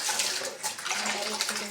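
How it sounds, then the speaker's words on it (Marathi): Dishes being scrubbed at a home kitchen sink under a running tap, a steady close rush of water filling the whole moment. "हे बघा आता मी भांडे घासते."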